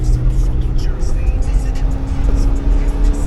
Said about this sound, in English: the car just, it feels like it just wants to rev and rev and rev